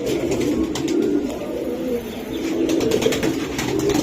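Pigeons coo in low, throaty, overlapping calls close by, fussing restlessly in a loft in Old Dhaka, with a steady murmur continuing throughout and no talk.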